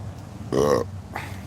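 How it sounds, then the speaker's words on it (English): A person burps outdoors, one short, close, loud belch in the middle, followed by a fainter trailing sound over light background noise. "That's me burping."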